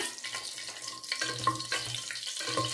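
Whole spices — cinnamon, cloves, bay leaves and caraway — frying in hot oil in a pot for vegetable pulao, a steady close sizzle with a few stirring knocks and clinks, no talking.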